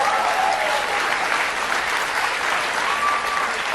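Applause from the crowd at a Kamala Harris campaign rally: a dense, even wall of clapping that holds steady and loud throughout, with no pauses.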